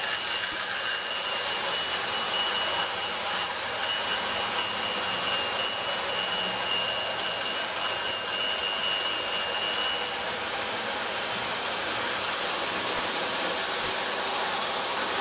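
A Marx 666 toy locomotive with a stock motor and traction tire pulls a 28-car train along the track, giving a steady whirring, rattling drone that runs throughout and eases slightly near the end.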